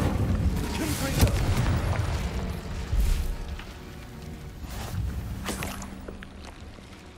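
Several booming blasts from the Confringo explosion spell in the video game Hogwarts Legacy, with bursts roughly every couple of seconds over a dense, rumbling game soundscape that includes some voice-like sound.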